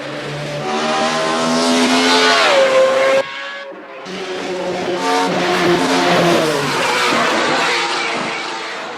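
A race car engine in a racing video game is pushed hard, its harmonic whine rising through the gears, cutting off briefly at a shift and then climbing again, loud and continuous with no talk over it.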